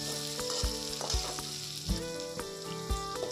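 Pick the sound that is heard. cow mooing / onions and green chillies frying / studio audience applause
onions and green chillies frying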